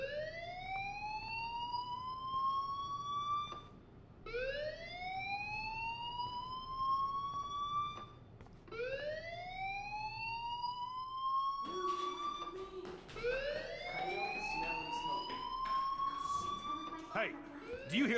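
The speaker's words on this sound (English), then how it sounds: "Hey, do you hear that fire alarm?" A school fire alarm in the Life is Strange video game sounds as a repeating rising electronic whoop. Three clear sweeps with short gaps are followed by continued wailing over busier background noise.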